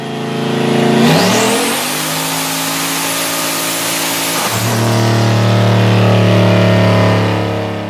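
A Nissan VK56-powered car accelerates hard in third gear, the engine climbing loudly in pitch for several seconds, then dropping sharply and pulling again with a steady, powerful drone.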